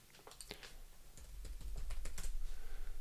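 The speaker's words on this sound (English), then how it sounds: "So, hitting Shift and the F10 key." Computer keyboard keys tapped quietly during a Windows 11 setup, including Shift and F10, a quick scatter of soft clicks that picks up into a denser run of typing.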